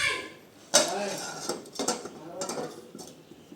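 Lid set down on a cooking pot of tomato bath on the stove, a sharp metallic clank followed by lighter clinks and rattles, with a voice speaking over it.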